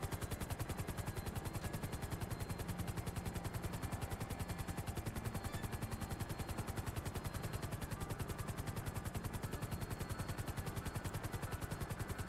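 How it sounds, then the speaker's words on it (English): Rapid, steady anti-aircraft gunfire pounds without pause in a video game, a fast mechanical rhythm of evenly spaced shots heard fairly faintly and alone. "Alright, you stop firing at me now"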